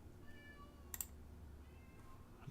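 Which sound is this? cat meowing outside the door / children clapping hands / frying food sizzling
cat meowing outside the door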